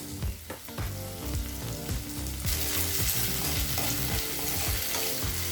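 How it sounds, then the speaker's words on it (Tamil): Tomatoes sautéing in oil in a pan for Tamil-style brinjal rice give off a steady, loud sizzle and crackle, with a brief stir near the start and the frying growing brighter and denser midway through. "தக்காளி நல்லா வதங்கிடுச்சு"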